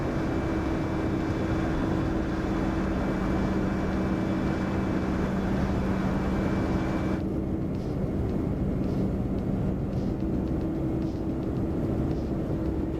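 Steady, broad wind roar inside the cockpit of an aircraft in Microsoft Flight Simulator 2024, constant and loud throughout, with its brighter upper hiss dropping away about halfway through while a low hum continues.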